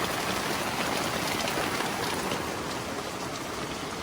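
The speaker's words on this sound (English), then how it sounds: "This has been raining like this for 20 minutes." Heavy rain falls steadily and loudly, a dense continuous hiss of drops drumming on surfaces nearby, with no voices.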